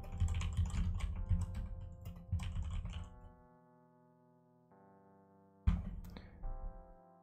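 Rapid typing on a computer keyboard, close and busy for about three seconds, then a quiet gap with a faint hum before another short burst of keystrokes.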